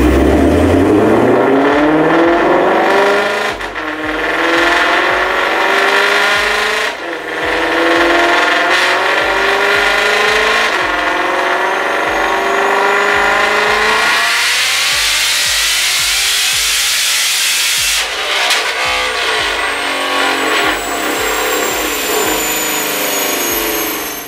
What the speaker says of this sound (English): Let's go watch that dyno pull, because this is a cool dyno pull.